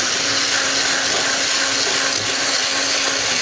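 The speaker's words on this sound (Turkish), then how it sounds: "2 adet yumurtamı da toz şekerimin üzerine ekleyip bir çırpıcı yardımıyla ee, krema kıvamı alana kadar çırpıyorum arkadaşlar." An electric mixer beats two eggs with granulated sugar toward a creamy texture, giving a loud, continuous close-up motor hum that stays steady with no pauses or talk.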